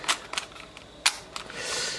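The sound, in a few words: winding film on a Wellica FA3 film camera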